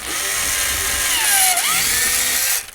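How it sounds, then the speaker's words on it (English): A power drill bores into a motorhome dashboard inside a Swift Kon-tiki motorhome, its whine running steadily for a few seconds and dipping in pitch mid-cut as the bit bites, close and loud with no talking. "we're now going to drill the dashboard"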